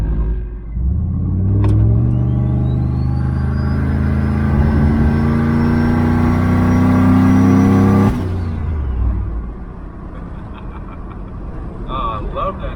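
A turbocharged Chevrolet Silverado engine revs hard and climbs in pitch for several seconds with a turbo whine rising over it, loud and close, then drops off abruptly to a lower idle rumble.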